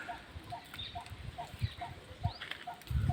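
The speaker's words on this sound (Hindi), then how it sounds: "तो कितने सुंदर पंछी भी आवाज़ आप सुन पा रहे होंगे" Soft, distant bird calls, including clucking fowl, sound in a regular repeating rhythm beside a village pond lined with young trees, faint against open outdoor ambience.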